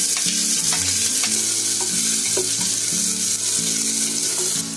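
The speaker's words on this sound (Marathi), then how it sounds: "आता त्याच्यामध्ये कांदा टाकते. कांदा थोडा चांगला फ्राय करून घेते." Onion sizzling loudly in ghee with whole spices for masoor pulao, a steady, close frying hiss broken by the scrape and clink of stirring, with no voices.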